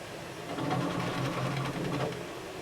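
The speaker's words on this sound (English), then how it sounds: "I have to hold onto the printer so it doesn't throw itself off of the table." A Bambu Lab P2S 3D printer runs hard enough to shake on its table, giving a steady, close mechanical whirring and rattling with rhythmic motor pulses throughout.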